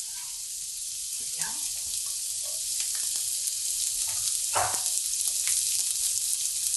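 Shallots frying in hot oil in a home kitchen pan, a steady close sizzle with brief crackles and the clink of stirring, and a soft voice in the background.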